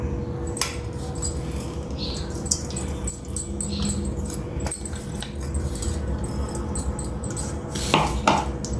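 Mango pickle is mixed by hand or spoon in a vessel, a continuous close clatter of metal utensil scrapes and knocks against the container, with a louder pair of clinks near the end, no talk.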